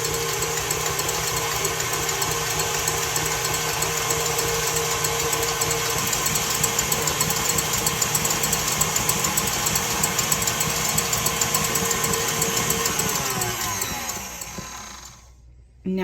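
Electric mixer whipping egg whites into thick, stiff peaks for chile rellenos batter, a steady loud whirring drone that runs continuously, then cuts off near the end.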